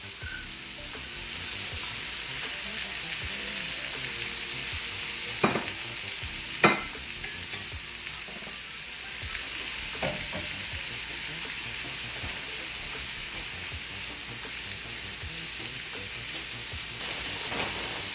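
Sausage frying in a pan for stuffed pineapple bowls, a steady even sizzle with a few sharp clinks of a utensil stirring, fairly quiet and close with no talking.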